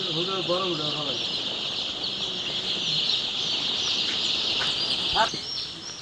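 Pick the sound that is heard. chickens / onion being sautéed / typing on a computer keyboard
chickens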